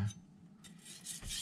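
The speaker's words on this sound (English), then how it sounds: "I want to feel what the stone is doing to the knife" A carbon steel knife being sharpened on a Miyagoshi whetstone, giving short, faint, gritty rasping strokes of steel against stone in a quiet setting.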